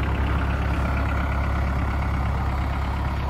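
A snow-covered VW Golf engine idling steadily just after a cold start, a low, even rumble that holds constant and close with no other sounds.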